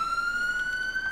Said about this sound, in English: I've also got the authentic LAS siren in my game as well.